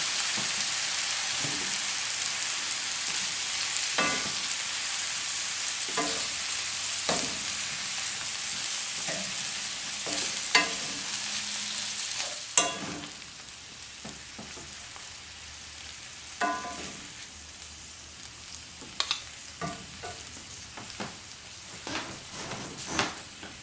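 Pasta with mustard greens and pepper sizzles in a frying pan while being mixed, a constant bright frying hiss broken by scattered scrapes and clacks of stirring, quieting partway as the heat goes off.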